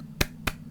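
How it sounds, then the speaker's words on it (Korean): Three sharp, close hand claps, evenly spaced about a quarter second apart, over a low steady hum, recorded through a Blue Yeti microphone. "그래서 제가 많이 박수를 치면"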